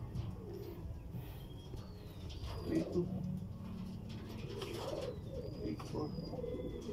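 Racing pigeons coo softly at the finish of a pigeon race in Pagudpud, Ilocos, with low, murmuring calls under excited talking nearby.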